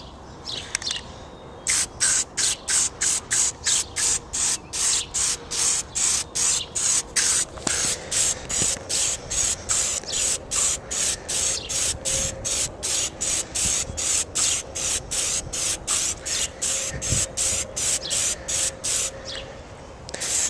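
Plasti Dip is sprayed onto a Jeep grill in quick, regular bursts from an aerosol can, a steady hissing rhythm of short pulses close to the microphone lasting the whole clip.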